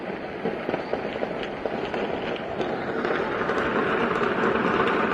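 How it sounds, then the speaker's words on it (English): Rapid crackling pops of heavy gunfire carry across Caracas, Venezuela, a dense continuous rattle of many shots blending into a steady roar that grows slightly louder toward the end. "Heavy gunfire in Caracas."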